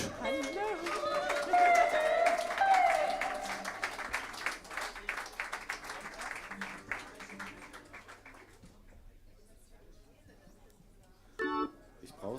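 An audience at a live club show in Dresden's Blue Note claps and cheers loudly to welcome the band back on stage, the applause fading out while an announcer talks over it.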